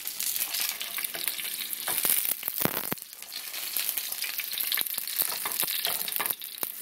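Shishito peppers sautéing in spattering oil, a crackling sizzle full of sharp pops and spits, with several louder crackles and a brief lull midway.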